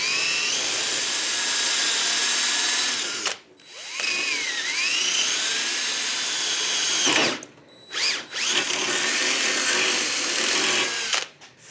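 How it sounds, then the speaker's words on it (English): A power drill with a step bit bores through a new steel piece and the plate beneath it during a cast iron welding repair, whining loudly and steadily in long runs broken by two brief pauses. "Now I'm going to be drilling through this new piece and the plate"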